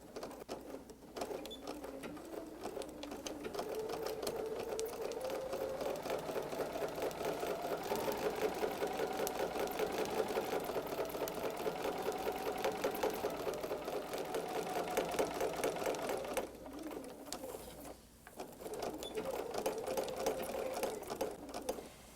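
A sewing machine with a wide 9mm foot back tacks and stitches through fabric, a quiet steady mechanical hum running continuously for about twenty seconds with brief pauses near the end.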